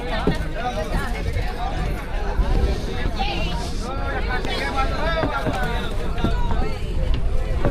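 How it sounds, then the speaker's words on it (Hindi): A boat crowded with Narmada parikrama pilgrims crosses the river confluence, its engine droning loudly and steadily under wind buffeting and a continuous babble of many voices on board. "तो पूरी बोट परिक्रमावासियों से भरी हुई है।"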